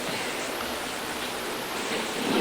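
Leftover water pours steadily out of an engine onto the ground during a Ram Air engine swap, a close, even, broadband splashing rush with no talk over it.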